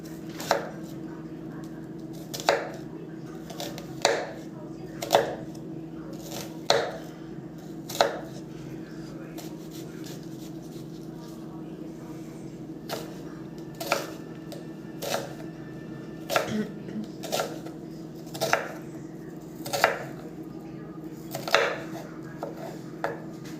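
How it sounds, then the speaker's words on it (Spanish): A knife chops an onion into fine brunoise dice on a cutting board, giving a steady series of crisp, fairly close taps, some in quick pairs, over a low background hum, with no talking. "el siguiente corte que vamos a hacer en cebolla es el corte brunoise"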